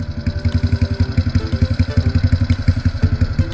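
A motorcycle engine fitted with a Chan Speed exhaust and an aftermarket cam idles close by, its rapid, lumpy putter thumping at a steady rhythm with metallic clatter on top.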